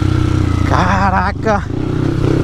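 Off-road motorcycle engine droning and revving as it slithers through thick, heavy mud on a trail, loud and close, with a man's excited exclamations over it partway through.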